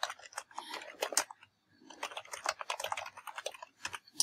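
Typing on a computer keyboard, quick irregular bursts of close, crisp key clicks with a short pause partway through, no talking.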